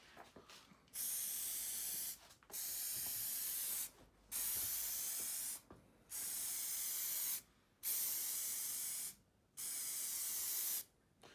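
A spray can lays a second, slightly thicker coat of paint onto an engine rocker cover in seven even hissing bursts, each lasting about a second and a half, separated by short pauses, close and steady.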